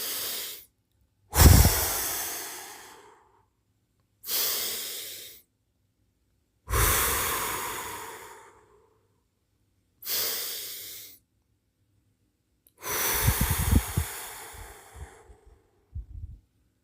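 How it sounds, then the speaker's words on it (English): Guided breathing exercise: six slow, audible breaths, each a strong rushing exhale or sigh lasting one to two seconds, separated by silent pauses, close and loud with no talking. "Continue to follow my audible breathing patterns. Let us release breath 3 more times."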